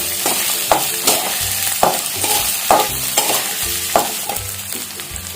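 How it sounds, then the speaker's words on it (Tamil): Beetroot sautés in a pan with a constant sizzle and regular rhythmic scrapes and knocks of a spoon stirring it, close up. "இப்போ இதை நல்லா வதக்கணும்"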